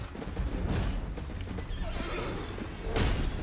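A horse in the Elden Ring video game neighs loudly while its hooves clatter in a busy combat scene, the whinny rising near the start and hoofbeats thumping throughout, with no talk over them.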